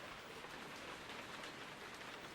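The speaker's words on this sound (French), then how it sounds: "il recommence à pleuvoir." Cartoon rain falls in a steady, dense hiss of drops pattering on surfaces, soft and continuous, with no voices.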